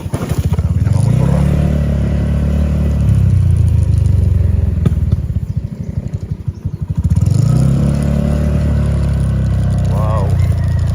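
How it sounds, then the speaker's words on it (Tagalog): Motorcycle ride with a loud, close engine note that rises and falls through gear changes over about ten seconds, with a short dip in the middle before it revs back up. "Kami nakamotor."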